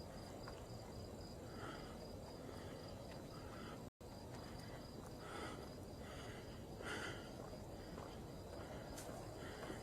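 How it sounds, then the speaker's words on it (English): Faint, steady chirping of crickets in a quiet outdoor night, with a constant hiss of background noise. "And I'm hearing some crickets. The crickets are out now."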